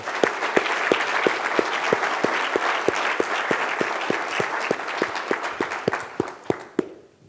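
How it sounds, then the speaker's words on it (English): Audience applause fills a university hall at a TexS talk, steady and dense with individual claps standing out, then thinning into a few scattered claps before fading out. "can we get a round of applause for them?"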